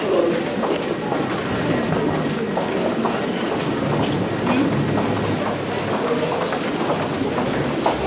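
A London Overground train at Stratford rolls past with a steady rumble and rhythmic clickety-clack over the rails, loud and continuous.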